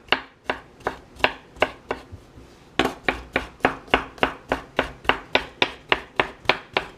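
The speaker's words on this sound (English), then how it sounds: "So you're just going to mince up your garlic" Garlic minced with a kitchen knife on a cutting board, a fast steady run of crisp chops about three per second, close and loud, with a short pause partway through.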